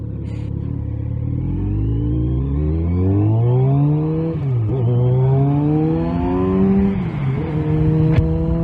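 A 2020 Kawasaki Z900RS Cafe motorcycle fitted with Lextek cat-delete downpipes is ridden hard, its engine note climbing through the revs, dipping at gear changes and rising again, loud and close.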